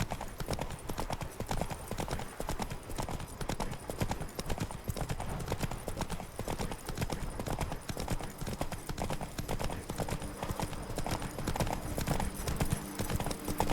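Horse hooves clip-clop at a steady canter in The Witcher 3, a continuous rhythmic beat running the full length under game music and ambience, with a brief whinny possible.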